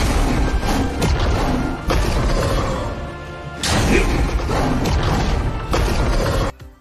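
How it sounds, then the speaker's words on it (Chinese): Heavy booming crash effect from a dragon-head smash skill in a mobile game hero skin, a dense loud impact burst that rumbles and repeats in waves, with a sharp cutoff at the end. "二技能头上出现龙魂，随后龙头砸去，爆炸声音非常响"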